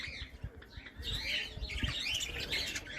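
Several caged birds, quails among them, calling inside a garden cage furnished with lettuce and cucumber: quiet squawks and chirps repeating at irregular intervals, with soft fluttering and scuffling close by.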